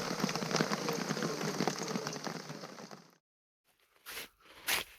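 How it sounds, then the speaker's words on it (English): Rain falling on a beach campsite, a dense close patter lasting about three seconds before cutting out, followed by near-silence and a couple of short rustling bursts. "Perfect timing, it's just started raining."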